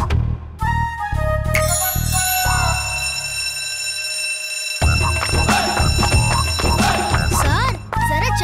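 A loud electric school bell rings with a bright, sustained metallic clang, then fades as a crowd of voices breaks into noisy chatter, in an animated cartoon.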